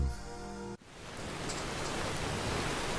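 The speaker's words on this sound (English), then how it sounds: "It's raining again." Steady rain pours down in Skyrim Special Edition survival mode, a dense even hiss that sets in abruptly after a brief musical tone and continues without pause.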